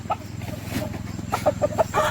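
Roosters kept at a farm grove raising breed chickens cluck in a series of short calls, close and fairly loud over a steady low hum of background noise.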